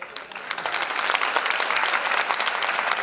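Audience at an award event clapping in welcome as a girl is called to the stage, a steady wash of many hands building within the first second and holding loud throughout.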